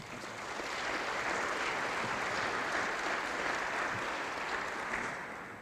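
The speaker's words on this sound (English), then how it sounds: "Let's give him a round of applause." An audience at a college event applauds a speaker with steady, even clapping that swells in, holds for several seconds, and tapers off at the end.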